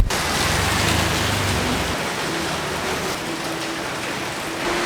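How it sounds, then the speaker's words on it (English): Heavy tropical downpour on Koh Samui in the rainy season, a dense steady hiss of rain pouring and pattering on surfaces, continuous and loud throughout with no voices. "as soon as we went to leave, it started pouring rain"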